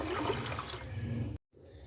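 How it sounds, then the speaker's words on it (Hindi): Water poured from a vessel into a cooking pot of soaked lentils, a steady close splashing rush that cuts off abruptly, leaving faint room noise. "अब इसमें डालेंगे 3 लीटर पानी"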